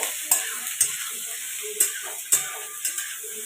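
About twenty garlic cloves and four large onions roasting in a pan, a soft steady sizzle with regular sharp clicks and scrapes of a spatula stirring, close by.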